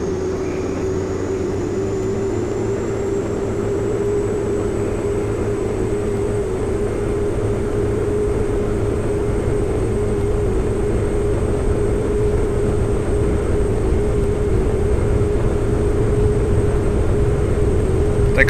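A Pilatus PC-12 turboprop engine at takeoff power in the X-Plane 11 flight simulator: a loud, steady drone with a high whine that rises and then holds, unbroken for the whole stretch.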